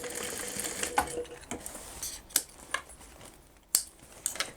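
A sewing machine runs short stitching bursts along the edge of a handmade cross-body purse, sewing across, back and a reinforcing row, with sharp clicks between runs up close.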